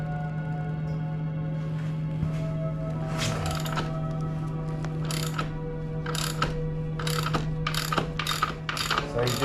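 A hand ratchet clicks while loosening the rear axle bolt on a Husqvarna Svartpilen motorcycle: short bursts of rapid metallic pawl clicks, close and clear over a steady low hum, growing quicker toward the end.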